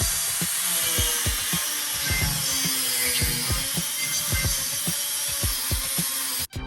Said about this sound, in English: I'm gonna use a Dremel grinder just to make my cut.